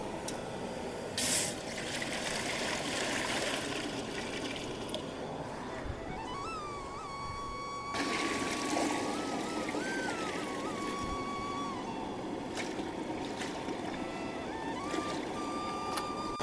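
Water is poured into a large cooking pot for 4 kg of rice, making a steady rushing, splashing stream that runs continuously at a moderate level.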